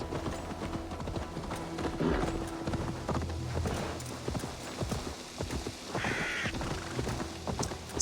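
Hooves clip-clop steadily as a horse moves along in the game Assassin's Creed Valhalla, with crows cawing in the surroundings and a brief rushing noise midway; the hoofbeats stay moderately close with no talk.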